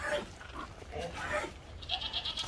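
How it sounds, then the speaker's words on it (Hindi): A large Kota goat bleats on a farm, several rough, wavering calls close by, with a higher-pitched bleat near the end over faint background farm noise. "बड़ा बकरा है माशाल्लाह"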